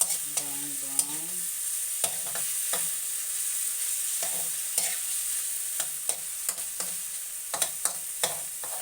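Chicken browning in a hot pan for Filipino tinola, with a steady bright sizzle throughout and periodic scraping clicks from stirring with a utensil, close and clear with no talk.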